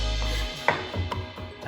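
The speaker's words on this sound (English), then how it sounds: "So you can just roughly chop this using your knuckles as a guide to not cut yourself." A kitchen knife chops garlic on a cutting board in a few quick, close taps and thuds over a low background hum.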